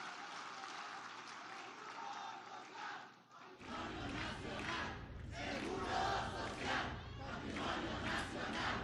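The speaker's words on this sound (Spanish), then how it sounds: "que un aplauso a Zoé Robledo porque también hace un gran trabajo al frente del Instituto Mexicano del Seguro Social." A large crowd at a public event for a new IMSS hospital in Culiacán, Sinaloa, bursts into loud applause and cheering that swells and stays dense, with shouts rising over the clapping.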